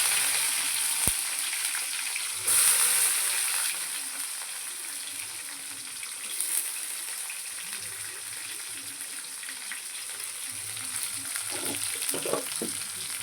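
Cumin, curry leaves, onion and green chilli frying in oil for a ridge gourd kulambu, a steady close sizzle with occasional louder bursts and stirring scrapes, and one sharp click near the start.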